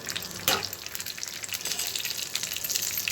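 Mustard seeds, cumin and dried red chillies crackling in hot oil in a pan for a tempering, a steady close frying hiss dotted with small pops and one sharper burst early on, no speech.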